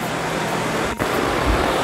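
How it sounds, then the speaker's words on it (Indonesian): A Toyota Kijang Krista engine, low mileage and in good condition, idles in a steady close rumble with a dense broadband roar and a brief dip partway through. "Jadi ini adalah ciri khas dari suara mesin Toyota Kijang gitu ya."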